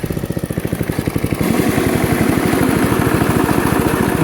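An old Webb or Suffolk Punch lawn mower runs with its blades engaged, giving a loud, steady rapid engine putter that grows fuller and louder after a second and a half, with no talk over it.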